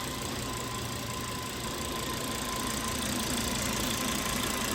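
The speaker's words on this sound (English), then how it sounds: "Well, the engine's just purring." A car engine idles steadily after a new timing belt, tensioner, idler, serpentine belt and water pump were fitted, giving a smooth, even hum with a faint whine and no voices.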